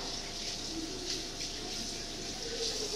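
A water tap runs steadily into a sink for handwashing during a clinical universal-precautions procedure, a continuous soft hiss with no pauses and no talk.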